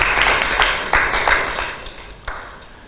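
Scattered claps from a small audience at a city Planning Commission meeting as a new commission member is welcomed. A handful of sharp, uneven claps ring out in a room, then thin out and fade.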